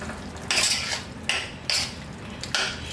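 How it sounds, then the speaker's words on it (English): A spoon stirs baigan, aloo and stewed pork in a pot, giving several scraping, clattering strokes in a repeating rhythm, close and fairly loud, with no talk. "we've got to stir that in."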